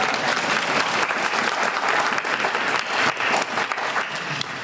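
Audience at a Comic Con panel applauds loudly and continuously, a dense wash of clapping from a large crowd that holds steady throughout.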